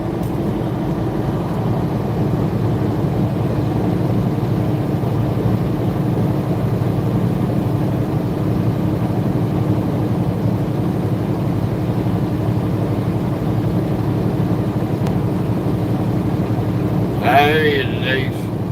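A truck engine drones steadily from inside the cab while driving, a low continuous rumble with wind noise, lasting throughout with only a brief higher sound near the end.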